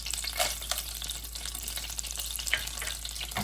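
Whole cardamom pods, cloves, a small piece of cinnamon and a star anise piece frying in hot oil for a paneer mutter masala, giving a steady, fairly quiet sizzle with a few faint crackles and pops.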